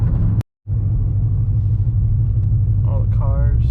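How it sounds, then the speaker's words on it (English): A loud car exhaust running on E85 fuel rumbles steadily and close, with a brief cut near the start and faint voices near the end. "the exhaust is just like loud as hell"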